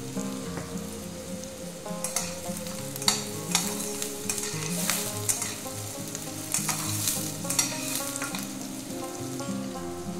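Green chilli and onion frying in a pan, a steady crackling sizzle with occasional stirring scrapes close by, while a voice talks over it.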